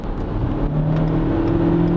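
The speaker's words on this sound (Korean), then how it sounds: "얘도 지금 가속 페달을 꾹 밟아서 RPM을 높여보면" A Renault Samsung XM3's 1300cc four-cylinder engine revs under the accelerator from inside the car, a steady droning whir whose pitch rises gradually with no speech over it.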